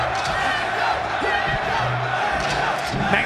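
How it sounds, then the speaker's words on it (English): A loud crowd roars and cheers at a Super Smash Bros. Melee tournament, a dense sustained wall of voices filling the whole moment with shouts rising out of it. "The crowd, the loudest I've heard them when a Donkey Kong wasn't on the screen."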